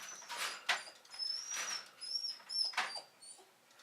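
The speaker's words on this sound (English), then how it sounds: "Guys, pardon my dog." A dog whimpers and whines in a series of high, thin cries, in short bursts with pauses between them, close by in a quiet indoor room.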